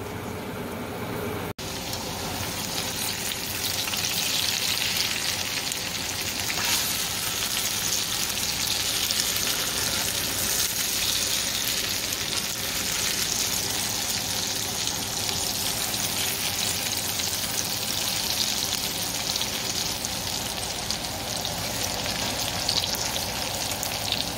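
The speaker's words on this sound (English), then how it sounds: "I'm going to go ahead and add in a couple of pre-cooked pieces of bacon that I've done up recently and had in the freezer, and let them cook down." Green beans and pre-cooked bacon frying in a skillet alongside rosemary potatoes, a loud, steady, continuous sizzle and crackle that runs close and unbroken throughout.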